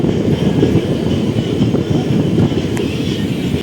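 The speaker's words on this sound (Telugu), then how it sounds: "సేదారంపట్టు రైల్వే స్టేషన్ ప్లాట్ఫామ్ చూడండి." A train rumbles at Sedarampattu railway station, a small station, heard from the platform as a dense, steady roar with faint rattling and no voices.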